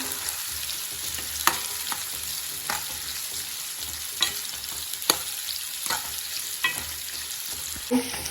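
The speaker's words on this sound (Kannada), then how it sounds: "ಆನಿಯನ್ ಎಲ್ಲ ಚೆನ್ನಾಗಿ ಫ್ರೈ ಆಗ್ತಿದೆ." Onions frying toward golden brown in a pan for sambar produce a loud, constant crackling sizzle, punctuated by a series of regular stirring clicks and scrapes from a spatula against the pan.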